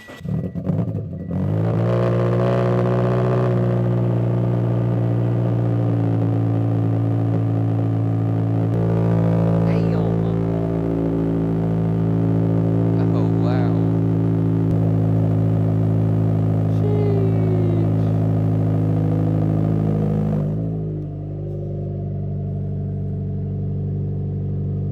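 Cold start of a turbocharged Scion FR-S engine: a sharp crank catches, then a loud, steady rumbling idle holds for about twenty seconds before stepping down to a lower, quieter idle.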